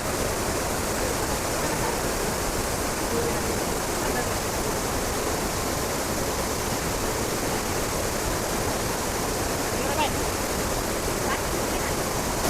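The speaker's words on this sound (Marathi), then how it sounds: "इथून आपण पाण्याचा आवाज बी बघू शकता किती जोरात पाण्याचा आवाज आहे" A monsoon waterfall at Bhandardara, Maharashtra, heard up close as a steady, unbroken broadband roar of rushing water, loud and constant throughout.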